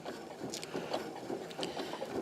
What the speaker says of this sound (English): I'm going to sew just down that edge